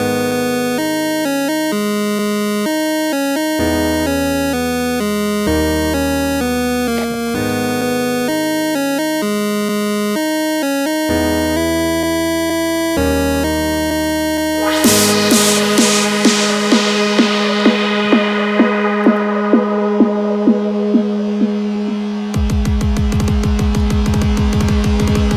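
Electronic build-up in a track: a steady chord pattern gives way to a rising riser and uplifter, a snare roll that speeds up, then a heavy pulsing kick drum near the end, all loud and with no voices.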